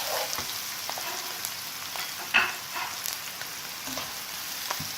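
Crushed black pepper sautéing in a pan while cooking a pepper and mushroom sauce for steak, giving a steady soft sizzle and crackle with a few light stirring clicks, close and fairly quiet throughout.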